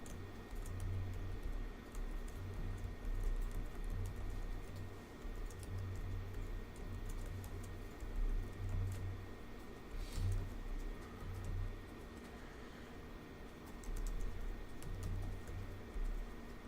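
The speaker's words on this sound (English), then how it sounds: "to see what I'm typing in" Typing on a computer keyboard, a steady patter of soft key clicks in uneven bursts with short gaps, close to the microphone and alone, over a low constant hum.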